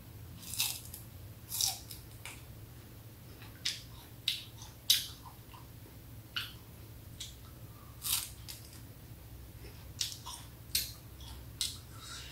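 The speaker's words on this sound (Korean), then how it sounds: "저는 요 겉껍질을 다 까고 속살만 먹어보도록 하겠습니다" Peeled sugarcane being bitten and chewed up close: a dozen or so crisp, wet crunches in an irregular rhythm, quiet and alone over a faint low hum.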